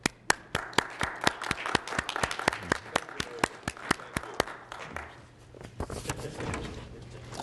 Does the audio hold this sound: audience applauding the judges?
yes